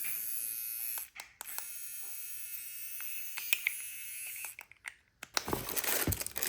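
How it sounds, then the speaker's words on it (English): A cordless nose hair trimmer runs up close with a steady thin electric buzz, broken by brief clicks and handling rustles, then louder crinkling near the end. "Nose hair trimmer."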